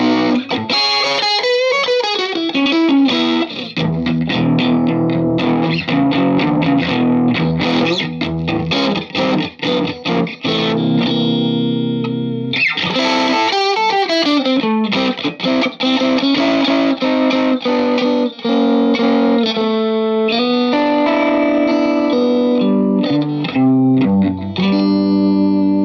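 Electric guitar runs through a distortion pedal on a pedalboard, playing a continuous loud, saturated riff of chords and single notes with a slight chorus shimmer, alone with no talking.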